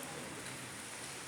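Heavy rain pours in a steady, dense hiss with no breaks, close and even throughout, with nothing else standing out.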